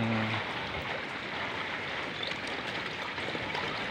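Floodwater from Typhoon Kristine rushing steadily in the Bicol region, a continuous loud broadband roar of flowing water with no break, like a swollen stream.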